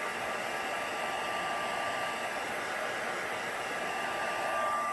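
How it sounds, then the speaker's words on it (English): A heat tool blows steadily and loudly on a card crafted with a small stamp, melting embossing powder and warming the back, a continuous whooshing hiss with no pauses and no talking. "Make sure you melt all of the embossing powder, and again heat the back just to make sure."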